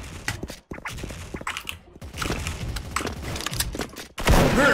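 Sniper rifle shots in the online shooter Special Force, a series of sharp, close reports in irregular succession amid busy in-game noise, ending in a loud burst.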